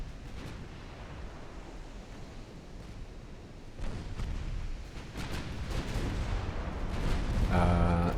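Battleship main guns firing in the naval game Ultimate Admiral Dreadnoughts during a 1908 French campaign battle at Cam Ranh Bay, heavy booming blasts and rumbling surf-like noise that build louder toward the end.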